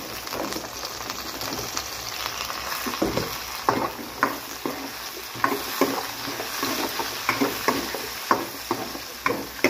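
Chayote, carrots and beans sauté in a pan, giving a constant sizzle broken by frequent, irregular scrapes and clacks of stirring, fairly close and with no talking.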